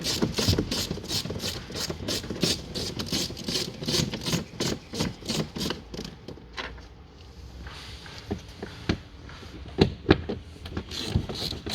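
Rapid ratchet clicks undo two T30 bolts inside the door of a VW Tiguan Mk2, coming in dense close bursts before a quieter stretch with scattered clicks and clunks.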